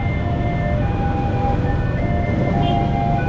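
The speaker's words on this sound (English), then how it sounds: "There's a train going past right now." A train rolls past on a street in Indonesia, a steady rumbling roar with tonal hum, close and continuous with no voices.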